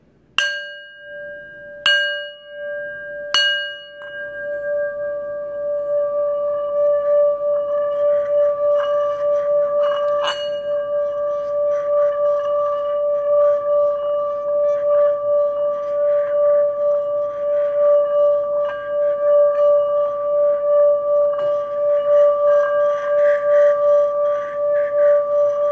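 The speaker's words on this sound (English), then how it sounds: "again, use the singing bowl." Singing bowl used to cleanse crystals, first tapped three times in quick clear strikes, then rubbed into a sustained bright ringing tone with shimmering overtones that holds loud and steady throughout.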